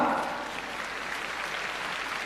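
Audience applause for students being honoured on stage at a Delhi government schools ceremony, a dense steady clatter of clapping that starts strong and settles into an even wash.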